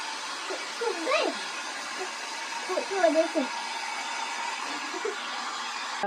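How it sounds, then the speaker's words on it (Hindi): A hair dryer blows a steady, even whoosh while drying a dog's wet fur after a bath, with voices and small sounds faintly heard over the hum. "अब हेयर ड्राई कर लेती हूँ क्योंकि बाल गीले हो रखे हैं, सूखे नहीं है।"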